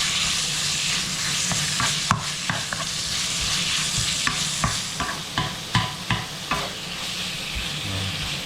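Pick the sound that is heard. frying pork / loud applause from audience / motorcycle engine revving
frying pork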